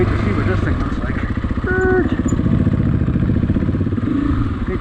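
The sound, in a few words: adventure motorcycle engine riding dirt trail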